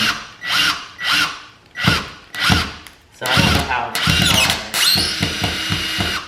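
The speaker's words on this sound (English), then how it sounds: "I don't know what I'm drilling behind" A power drill drilling into a wall whirs in repeated short bursts, then runs longer as it bites in, with a person talking briefly between runs.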